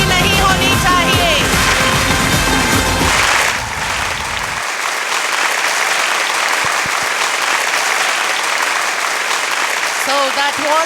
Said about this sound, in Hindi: तालियों में कंजूसी नहीं होनी चाहिए।